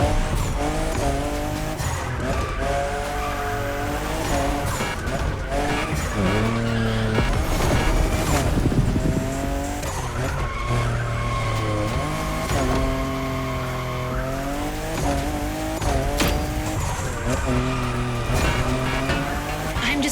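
A fifth-generation Toyota Supra drifts in The Crew Motorfest racing game, its engine roaring loud and steady while the tires squeal in long, wavering screeches that run without a break.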